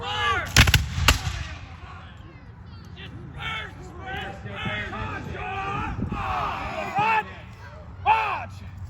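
Musket volleys crack out during a Revolutionary War battle reenactment of Lexington, a sharp loud double blast near the start followed by scattered distant shots and a late report, over crowd murmur and shouted commands.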